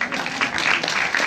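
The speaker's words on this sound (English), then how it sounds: "A round of applause." Applause for a woman's sisters at a family celebration: a short burst of many hands clapping, fairly close, steady and dense through the whole moment.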